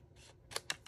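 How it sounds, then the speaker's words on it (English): Scissors snip through paper while a tag card is being made, giving three short, crisp cuts close by in the second half, with quiet handling between them. "And cut along that line right there."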